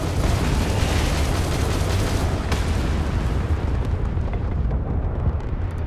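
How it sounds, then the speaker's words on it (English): Missile fire and explosions in a space combat in the game Starfield: a dense, continuous roaring barrage of booms and blasts, loud and sustained throughout, with a sharper burst midway. "I'm using my missile without locking on"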